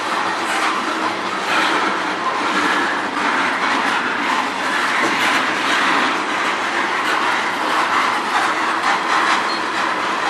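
A train rolls past steadily on the Strathroy Subdivision with a continuous loud rumble and rhythmic wheel clatter, close by and without voices.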